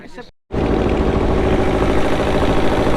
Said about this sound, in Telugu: చూడండి పడవ బయలుదేరింది